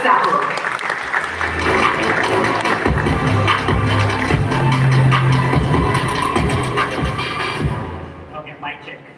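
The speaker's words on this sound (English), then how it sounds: "A big round of applause for Geeky and Sanket Sahu." A conference audience at devsparks 2025 gives a big round of applause for speakers Geeky and Sanket Sahu: steady dense clapping mixed with crowd murmur that carries on for about eight seconds and then fades out.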